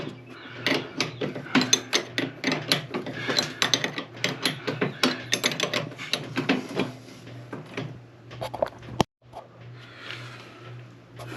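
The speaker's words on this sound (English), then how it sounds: "to remove this nut, I found this 18mm wrench" An 18mm wrench ratcheting on a nut on a John Deere Z235 mower deck, quick repeated metallic clicks in bursts, close and steady, with a brief gap before a softer stretch.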